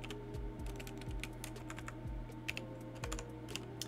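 Steady typing on a faulty computer keyboard during a space-game live stream, a quiet run of close, irregular key clicks with a low electronic hum beneath.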